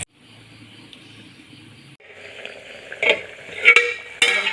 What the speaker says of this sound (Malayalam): അരവ നന്നായിട്ട് തിളച്ചിട്ടുണ്ട്.